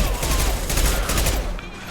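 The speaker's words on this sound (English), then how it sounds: "Firing concussive shot." A concussive shot fired in Mass Effect 2 gives a dense, sustained roar of gunfire and rumbling blasts that stays loud for about two seconds before easing off.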